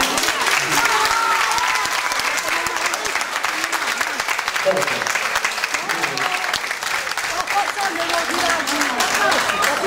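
A restaurant audience at an Italian evening show breaks into long, sustained applause that is dense and loud throughout, with scattered voices and cheers among the clapping.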